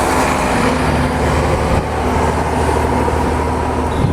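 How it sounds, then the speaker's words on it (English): Steady road traffic on a Sunday morning, a continuous loud wash of cars rolling past without a break, heavy low rumble throughout with no voices. "Sunday morning, the cars come out."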